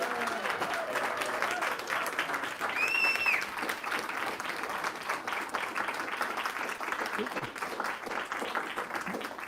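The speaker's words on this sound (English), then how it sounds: "let's give him a round of applause for everything he's been doing today" A church congregation applauds during a Sunday service, sustained even clapping from a full room that continues for several seconds with a few voices murmuring underneath.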